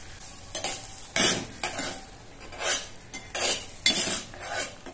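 Spinach gravy with fresh cream being stirred in a pan, several loud scraping strokes of a utensil against the pan in uneven bursts over a soft simmering sizzle, close by.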